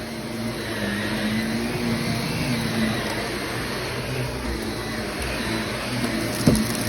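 Carpet extraction machine sucking dirty water out of pet-stained carpet, making a loud, continuous roaring whine with a gurgling rush that holds steady throughout and ends in a brief clunk.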